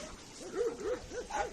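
Rescued puppies in a quarantine enclosure give a run of short, whiny yips and barks in quick succession, close and fairly loud, with whimpering pitch rising and falling between them.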